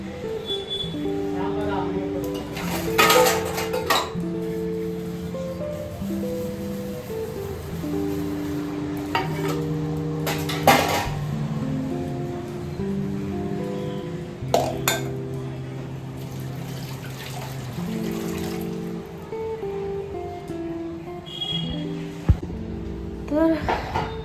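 Dishes washed in a kitchen sink, with running water, splashing and intermittent clinks of pots and plates under near-continuous talk and a steady tonal hum.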